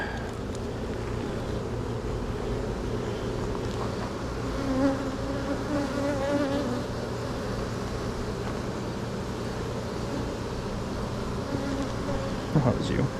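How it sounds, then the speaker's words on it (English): Bees buzz around a heavy beehive box being smoked, a dense, steady drone of many insects close to the microphone, with faint wind noise throughout. "Get the bees off."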